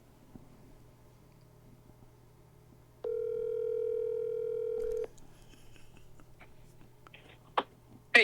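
A telephone dial tone sounds clearly for about two seconds as a call is placed, a steady, even electronic tone that cuts off abruptly, followed by faint line noise and a few small clicks.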